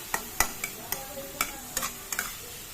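Mushrooms frying in a pan, stirred with a utensil: about eight sharp scraping strokes at an uneven rhythm over a soft, steady sizzle, close and fairly quiet.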